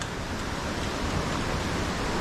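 A mountain creek in the Great Smoky Mountains rushes in a steady, broadband wash of flowing water, close and continuous, with no voices.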